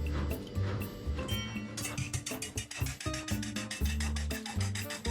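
Eggs and milk being beaten together in a bowl for scrambled eggs, giving a quick, steady run of clicking, scraping strokes that carries on throughout over a fuller background.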